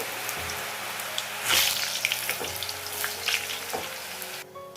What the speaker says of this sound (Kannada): ಈಗ ಇದನ್ನು ಡೀಪ್ ಫ್ರೈ ಮಾಡ್ಕೊಳ್ಳೋದ